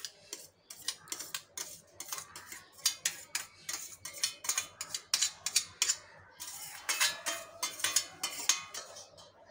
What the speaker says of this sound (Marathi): आता हे मी कुकरमध्ये डाळ काढून घेतली.